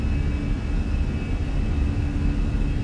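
Jet engines in Microsoft Flight Simulator spool up at takeoff power, a steady, heavy low rumble with a faint high whine, continuous and even throughout, no voices.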